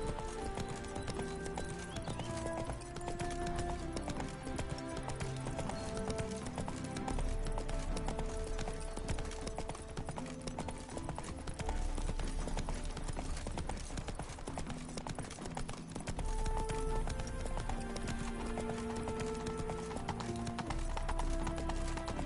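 A horse gallops in the video game The Witcher 3 with continuous, rhythmic hoofbeats beneath a dense, ever-present orchestral score, steady and moderately loud throughout.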